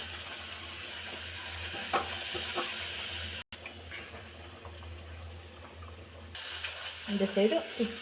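Puri frying in hot oil gives a steady, close sizzle and hiss that swells toward the end, with faint background noise underneath.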